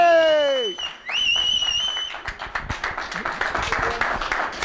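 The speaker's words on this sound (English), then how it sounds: "can we have a massive round of applause for the champion of the IPO 2025, Mr. Noel Murphy" Applause rises for the champion of a poker tournament's main event final day, a dense crowd clapping after a voice finishes speaking, then sustained and fairly loud to the end.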